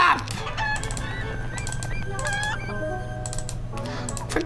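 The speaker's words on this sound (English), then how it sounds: "Shut up, chickens!" Chickens cluck and a rooster crows in Heroes of Might & Magic IV, the fowl calls repeating over a steady game music bed with scattered clicks throughout.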